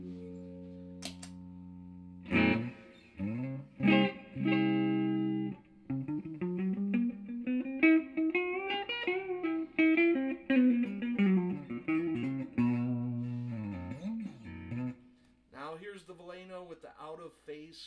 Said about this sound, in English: I'll run on through a Verbzilla reverb.